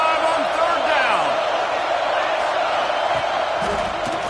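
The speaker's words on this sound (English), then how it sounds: "The Buckeye crowd alive on 3rd down" Ohio State Buckeyes football crowd roaring on a third down, a dense sustained wall of cheering and whoops from a large stadium throughout, steady and loud with scattered shouts rising above.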